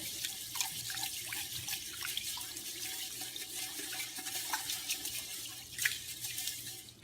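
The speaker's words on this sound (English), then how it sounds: "now we have to clean the rice to get all the fiber out" Water runs and splashes from a tap as rice is rinsed clean in a bowl, a steady faint wash broken by small drips and sloshes, with no voices.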